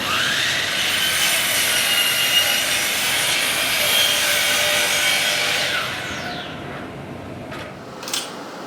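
A sliding miter saw cuts through a wooden shelf board with a loud, close, continuous whirring rasp that holds steady for about six seconds, then drops away as the blade spins down and stops.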